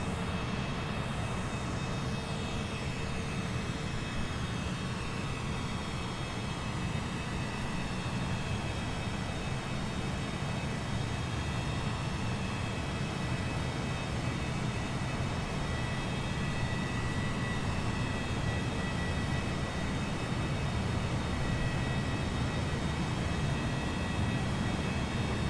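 A WT CJ4 business jet in Microsoft Flight Simulator rolls for takeoff on a runway, a steady broadband engine roar holding level for the whole stretch, with a rising whine early on and no talk over it.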